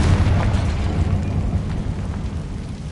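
Confringo blasting spell from Harry Potter-style spellcasting, a loud, dense explosive roar that booms at the start and rumbles on, slowly fading, with no voices.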